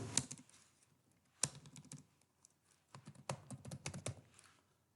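Keys clatter on a computer keyboard during web-development coding work, in quiet, close bursts of clicks separated by short pauses.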